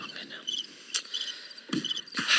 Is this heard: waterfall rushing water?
no